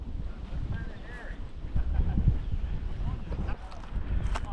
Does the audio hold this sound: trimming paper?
no